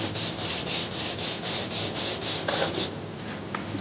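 A flat sanding block rubbed over clear-coated car paintwork with steady, rhythmic back-and-forth strokes, close and continuous with no talking.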